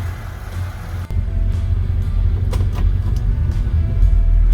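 Idling V8 of a 1953 Ford Crestline Victoria with turbo mufflers rumbles low and steady while a single sharp thump marks the hood being shut, followed by a few lighter knocks over the engine drone.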